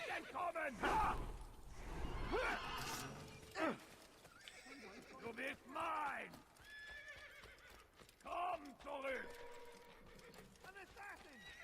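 A horse in the video game Assassin's Creed neighs and whinnies repeatedly in loud, wavering calls, interspersed with hoofbeats and mechanical clicking sounds.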